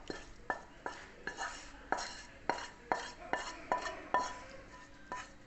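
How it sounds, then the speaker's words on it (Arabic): Omelette mixture for a Moroccan-style tortilla gets stirred in a bowl, the utensil clinking against the sides in a steady, quick rhythm of sharp close taps throughout. "صافي نخلط هادشي مزيان"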